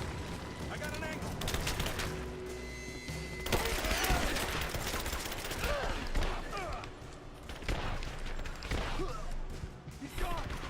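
Gunfire in the video game Rise of the Tomb Raider, dense bursts of shots and impacts running through a busy game mix, with a player talking over it.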